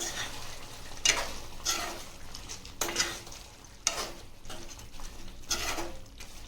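Ginger garlic paste being stirred into a chicken masala gravy in a pan, with a spoon scraping in several distinct strokes over a steady sizzle and light clinks of the pot.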